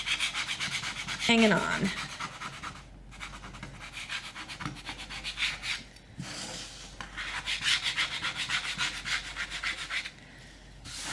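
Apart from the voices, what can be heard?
scraping paint off a wooden sign with a small scraper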